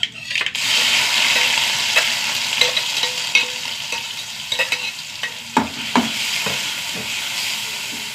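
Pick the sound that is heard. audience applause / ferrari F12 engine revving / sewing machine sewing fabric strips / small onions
small onions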